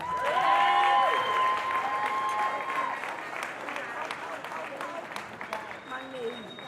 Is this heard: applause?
yes